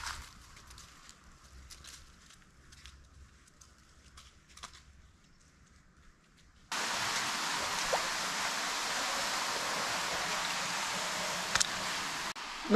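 Waterfalls of the Rio dell'Acqua Caduta in a forest roar as a steady, broad rush of falling water that starts suddenly at full strength after a quieter stretch of faint outdoor ambience.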